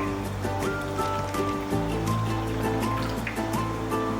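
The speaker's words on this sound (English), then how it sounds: "Now we have to add boiling water." Boiling water poured into potato dumpling dough in a home kitchen, heard as a continuous trickling, splashing pour over a steady tonal background.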